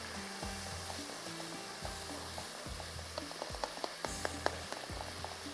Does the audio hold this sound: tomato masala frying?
yes